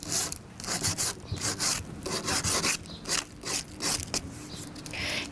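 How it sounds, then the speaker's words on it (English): Sandpaper scuffs along the painted edges of a wooden nightstand in quick, repeated rasping strokes with short pauses between them, close up and with no talking. "You're going to take your sandpaper, and you're just going to rub on the edges"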